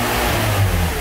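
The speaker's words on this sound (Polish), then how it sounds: "Po dodaniu gazu silnik powinien chodzić normalnie," A car engine revs briefly as throttle is applied, its close, loud drone swelling slightly mid-way and then holding steady.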